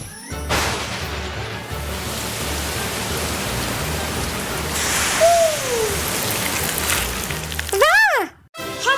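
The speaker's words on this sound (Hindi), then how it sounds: "बारिश आ जाओ।" Cartoon rain falling as a steady hiss of drops, with brief whooshing and rising whistle-like effects near the end, no talking.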